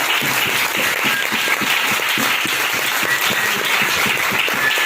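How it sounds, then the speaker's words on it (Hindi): A crowd at a motivational seminar breaks into loud, sustained applause, many hands clapping together in a thick, even roar that holds steady from start to finish. "एक बार जोरदार ताली होनी चाहिए।"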